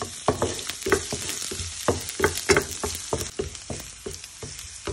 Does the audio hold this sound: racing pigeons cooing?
no